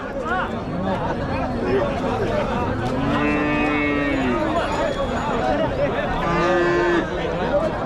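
Cattle at a busy livestock market in Kundarapalli, Krishnagiri district, give loud nearby moos, two long ones standing out, over constant crowd chatter and people talking.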